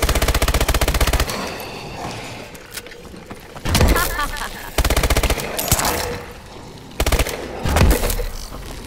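Call of Duty Advanced Warfare Exo Zombies game gunfire, loud sustained automatic bursts with short pauses between them, booming hits and a voice talking in between.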